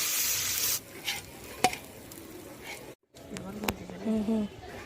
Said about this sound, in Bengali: এই তেলের মধ্যে মাছের মাথাগুলোকে দিয়ে দেবো